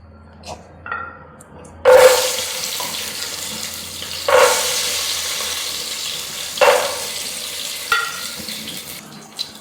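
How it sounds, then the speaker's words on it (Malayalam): Cashews and raisins frying in ghee in a pan for dum biryani, with bursts of hissing sizzle as they hit the hot fat, each flaring and then fading over a steady low background. "ആദ്യം അണ്ടിപ്പരിപ്പ് മുന്തിരിയെല്ലാം ഒന്ന് വറുത്ത് കോരാം."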